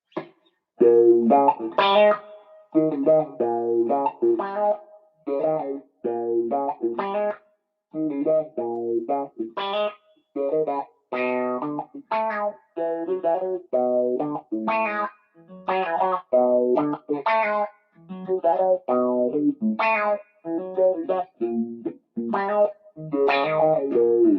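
A bass guitar plays a choppy funky line through an MXR bass envelope filter pedal, each note opening with a quacky, wah-like sweep; no talking.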